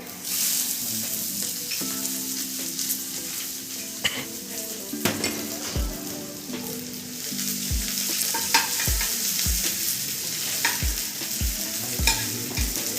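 Chopped onions sizzle steadily in a hot pan at a hotel-school kitchen during a cooking demonstration, with a utensil repeatedly stirring and scraping, giving rhythmic knocks and clatters over the constant frying hiss.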